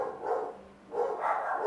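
A dog gives two broad, fairly loud barks separated by a short pause, with no one talking over them.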